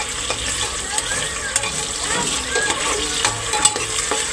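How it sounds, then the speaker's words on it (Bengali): Onions fry in oil with a bay leaf, giving a continuous close sizzle and crackle with scattered scraping stirs of a utensil against the pan, and only faint background sound beyond the cooking. "এবার আমি ভালো মতো পেঁয়াজটাকে ভেজে নিই।"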